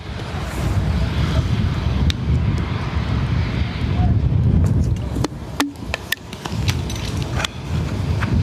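An airliner departing Dublin Airport, a broad steady roar of jet engines with wind buffeting the microphone, loud and sustained, with faint voices at times.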